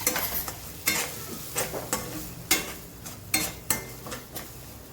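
Spices like coriander powder and red chili stirred into a hot pan for a frankie filling, sharp scraping strokes at an irregular rhythm over a soft, steady sizzle, close and fairly quiet.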